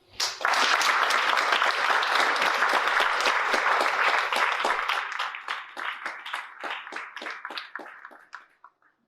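An audience applauds to welcome a guest speaker at a lecture on civil discourse, loud steady clapping from a large group that thins into scattered claps and fades out.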